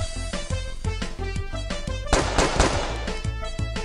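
Gunfire in the Meteor 60 Seconds video game, a rapid series of sharp shots over a continuous game music bed, with a denser burst of blasts in the middle.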